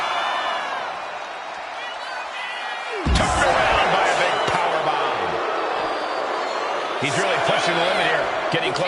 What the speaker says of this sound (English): Turned around by a big powerbomb.